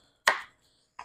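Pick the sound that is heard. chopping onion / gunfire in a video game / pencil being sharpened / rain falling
chopping onion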